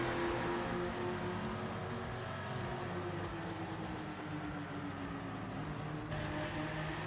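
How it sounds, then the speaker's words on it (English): A race car engine in a racing video game howls steadily at high revs and strains under braking, a constant loud whine that stays level throughout with no speech. "The car sounds like it's screaming more under brakes too,"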